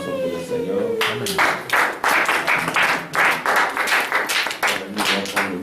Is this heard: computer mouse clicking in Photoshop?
no